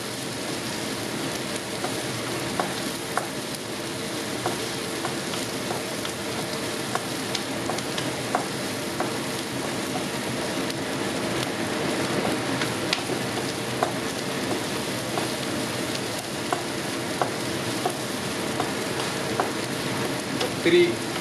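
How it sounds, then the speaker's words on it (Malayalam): Green beans stir-fry in a pan, giving a constant soft patter of sizzling for the whole stretch, with faint occasional clicks of stirring. "അങ്ങനെ ഒരു 2-3 മിനിറ്റ് നമുക്ക് ഇളക്കി കൊടുക്കാം."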